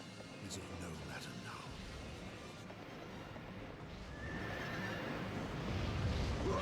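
A horse in the PS2 game Drakengard whinnies and neighs over clip-clopping hooves and a continuous game soundscape that grows louder toward the end.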